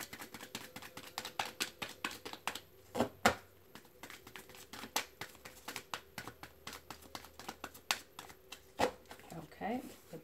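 Tarot cards are shuffled up close in rapid riffling bursts and crisp slaps, quiet but busy, with a short pause partway through and a final flurry at the end.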